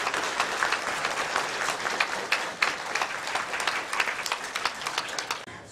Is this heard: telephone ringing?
no